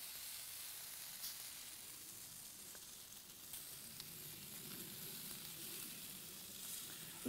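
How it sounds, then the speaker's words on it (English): Bacon sizzles and fries on the grill of an Infinity 5 burner barbecue outdoors, a soft, continuous crackling hiss heard faintly from close by, with light rain falling. "Now, space enough to put some bacon on."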